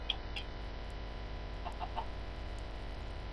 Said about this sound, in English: Oh, there's another chicken over there.